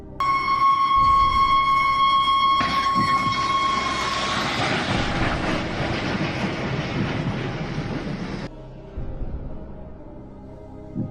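A high-speed train at a level crossing sounds a steady horn blast, then roars past loudly and close with rushing rail noise, and the sound cuts off abruptly near the end.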